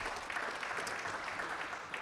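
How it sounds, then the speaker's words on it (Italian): Audience applause at a ceramics book presentation, a faint, steady patter of many hands clapping, heard from some distance for the whole short stretch. "Un applauso a Passero che ha iniziato tutto."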